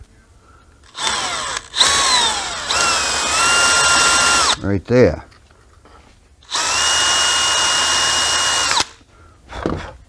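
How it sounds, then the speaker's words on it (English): A power drill bites into a Red Devil paint scraper blade in long loud whining bursts, separated by pauses, with a short spoken remark in between. "And I'm going to drill a hole in it."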